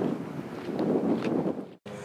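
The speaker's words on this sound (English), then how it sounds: "it's too windy out here" Strong wind buffets the microphone in a parking lot in a steady, loud rumble, with a brief dropout near the end before the roar resumes.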